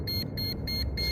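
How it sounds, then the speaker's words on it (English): Four evenly spaced high electronic beeps from a drone, each lasting a fraction of a second, repeating steadily over a low rumbling background. "Sorry about the beeping."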